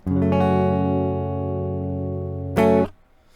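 A single strummed acoustic guitar chord rings out and sustains, then a second bright strum hits near the end and is quickly damped.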